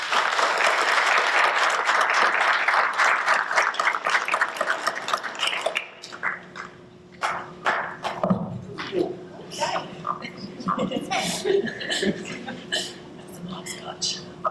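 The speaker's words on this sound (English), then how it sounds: "Long applause." Applause at a school committee meeting, a full, steady burst from a gathered audience that dies away around midway, followed by scattered claps, murmuring and voices talking in the room.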